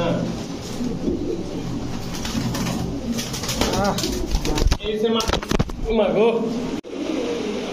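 Pigeons coo repeatedly at a pigeon seller's, their soft throaty calls overlapping with people talking and bargaining nearby, with some rustling and brief wing sounds.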